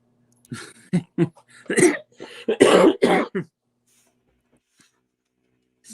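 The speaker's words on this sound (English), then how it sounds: "Sorry, I had to cough." A few close, sharp coughs and throat-clearing bursts in quick succession, followed by near silence.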